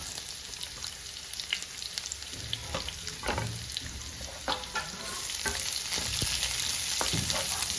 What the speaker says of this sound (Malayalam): സവോള ഇട്ട് നന്നായിട്ടൊന്ന് ഇളക്കുക